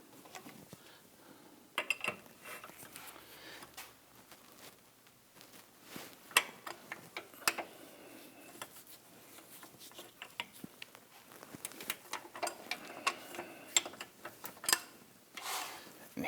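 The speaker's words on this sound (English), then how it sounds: "I'm going to use an angled 15mm box wrench" Angled 15mm box wrench working bolts on the front control arm of a 2001-2009 Volvo S60, giving quiet metallic ratcheting clicks and clanks at irregular intervals, fairly faint and close, with no talking.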